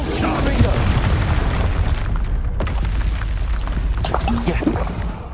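A rumbling boom of the Expulso explosion spell in the Hogwarts Legacy video game, thick and loud beneath game effects and a voice shouting spell names.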